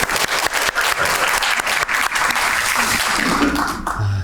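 Audience applause at the opening of a social economy policy forum, dense and steady clapping from a hall full of people lasting a few seconds before fading out.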